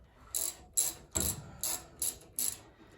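A 7mm aftermarket fuel-injection-style hose clamp being tightened on a rubber fuel line: six short, crisp clicking bursts at a steady, even rhythm, close up and heard alone.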